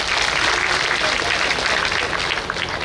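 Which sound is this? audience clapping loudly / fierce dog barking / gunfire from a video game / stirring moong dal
audience clapping loudly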